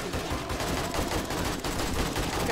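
Rapid automatic gunfire from 7 Days to Die, a dense, loud, continuous stream of shots crackling without pause.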